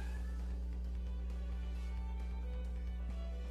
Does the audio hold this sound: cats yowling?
yes